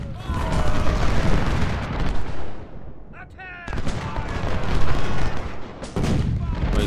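Cannon and artillery fire from the Ultimate General: Civil War strategy game, with dense rolling gunfire and booming reports sustained across the scene, briefly dropping away before resuming loud.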